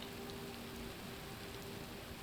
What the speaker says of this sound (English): So the rain is fake.